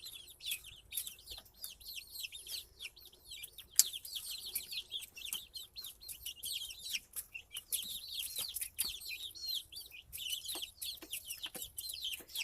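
Young egg-layer chicks and chickens on day 23 after hatching cluck and chirp in a steady, busy chorus, faint and close, with no talking.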